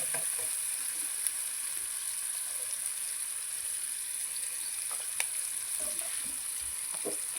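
Ingredients for amla dal frying in a pan, a steady close sizzle with occasional stirring clinks and scrapes throughout, no talk.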